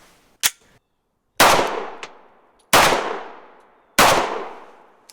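Four sharp, loud shots from a Walther compact 9mm handgun crack out at a slow, uneven pace, each one followed by a brief ringing decay, with a faint click between shots and no talking.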